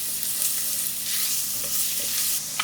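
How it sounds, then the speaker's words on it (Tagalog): Garlic and tomato sautéing in a pan, a steady close sizzle with soft stirring scrapes running throughout, no voices. "Maggisa tayo ng bawang"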